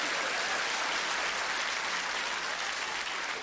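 A comedy show audience claps in a dense, steady burst of applause, loud and sustained throughout with no talking over it.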